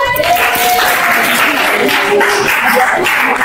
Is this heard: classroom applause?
yes